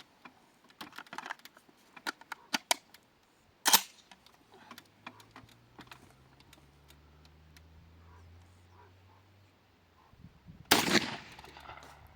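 Several sharp gunshots firing steel balls crack at irregular intervals, with the loudest bursts near the start and end, amid clicking and mechanical handling noises.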